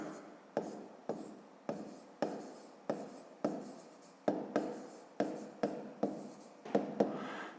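A pen writes on paper while a maths subtraction check is worked out, about a dozen quick scratchy strokes in a steady rhythm, close and clear, each starting sharply and trailing off.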